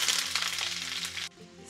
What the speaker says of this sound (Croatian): Na zagrijano ulje dodajemo usitnjeni luk.